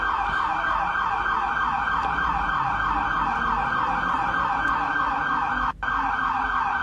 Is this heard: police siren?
yes